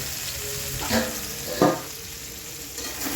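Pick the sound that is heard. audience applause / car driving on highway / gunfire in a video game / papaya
papaya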